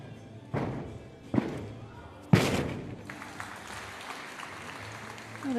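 Men's floor exercise tumbling pass by an Italian gymnast at the 2022 Koper World Challenge Cup: three heavy landing thuds on the mat, each louder than the last, over a murmuring arena crowd with a brief cheer after the final impact.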